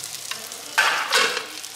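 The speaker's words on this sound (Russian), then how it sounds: "Кашка варится." Thick porridge simmering in a pot while a spoon stirs it, giving soft scraping swishes and a broad hiss that swells in two passes, close and fairly loud, with no talking.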